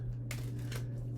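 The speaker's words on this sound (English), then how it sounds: "let me shuffle the deck of the Four Agreements" A deck of Four Agreements oracle cards being shuffled by hand, two brief papery riffling bursts close by over a steady low hum, with no talking.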